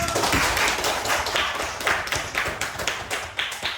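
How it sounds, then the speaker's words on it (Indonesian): A classroom of students giving a round of applause, loose uneven hand clapping from a modest group, fairly close, tapering off after a few seconds. "Oke, kasih aplaus dulu."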